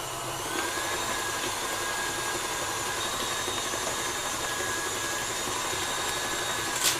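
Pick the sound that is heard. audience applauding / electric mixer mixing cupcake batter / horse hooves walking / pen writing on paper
electric mixer mixing cupcake batter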